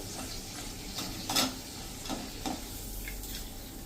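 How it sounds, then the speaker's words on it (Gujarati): Raisins and dry fruit fry gently in hot oil while being stirred, giving a steady soft sizzle with a few brief scraping stirs, close and moderately quiet. "તો આ રીતે આપણે એને હલકા એવા બહુ બ્રાઉન ન થાય ને એટલા કૂક કરી લેશું તેલમાં ફ્રાય કરી લેશું."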